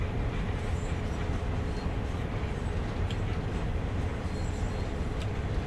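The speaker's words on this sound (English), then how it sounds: "it is a freight train and at the moment it's empty" An empty freight train runs in the Train Sim World 2020 game on the Peninsula Corridor route, a continuous loud rumbling drone of rolling wagons with faint clanks and no talk.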